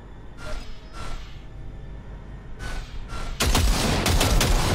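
Bigger burst of rapid gunfire in the Cyberpunk 2077 video game: a few faint shots first, then a loud, dense volley of repeated shots filling the final second and a half.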